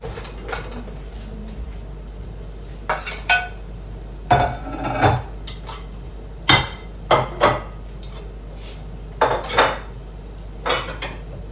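Rinsed plates and cutlery are stacked into a dishwasher in a home kitchen, with scattered clanks and clinks of ceramic and metal in short bursts, close by and separated by quiet pauses.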